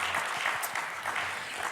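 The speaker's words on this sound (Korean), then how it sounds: "박수 감사합니다" Church congregation clapping together during a Sunday worship service, a steady dense applause sustained throughout at moderate level.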